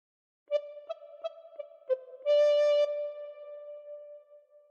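Recorder melody of Oh Susanna played solo in clear, steady notes: a run of short tongued notes followed by a longer held tone, close and fairly loud with no talking.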